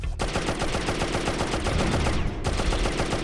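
Automatic gunfire in Oddworld: Abe's Exoddus, shooting greeter robots, a loud rapid stream of shots with a brief gap before it resumes.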